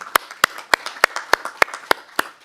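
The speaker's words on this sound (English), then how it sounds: "So another big round of applause." Sparse applause at a council meeting for an award: a few close, sharp claps repeat in a steady rhythm, about eight distinct loud claps in two and a half seconds with quieter claps between them.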